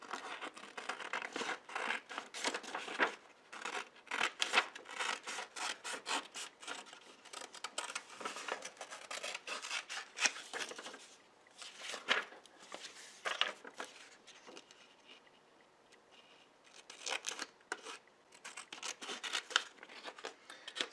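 Scissors cut out a paper roof topper for a mixed-media bird house, giving a steady stream of close snips with paper crinkling and rustling, one brief lull, and no talking.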